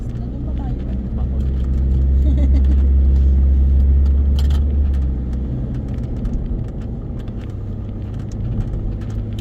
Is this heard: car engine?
yes